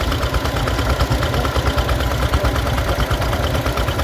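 Several vintage stationary engines with exposed valves run steadily together at an agricultural show, a close, continuous mechanical chug with dense low-frequency knocking and a constant rumble throughout.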